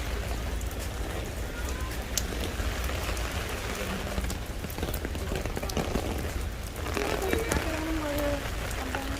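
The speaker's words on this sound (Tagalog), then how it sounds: "Rain." Steady rain falls around people out shopping under umbrellas, a dense continuous patter heard close by, with voices talking over it throughout.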